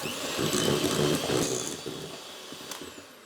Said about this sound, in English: And I beat these in with the mixer as well.